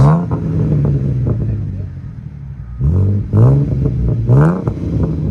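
A 2011 Ford Mustang V6 with resonators drives off from a lot, its engine revving in several rising pulls close by, with some voices underneath.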